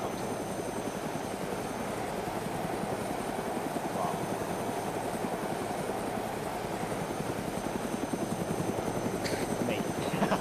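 A helicopter in the military shooter game Arma 2 DayZ Epoch flies with a steady, loud rotor chop and engine drone throughout, while a player briefly exclaims over it.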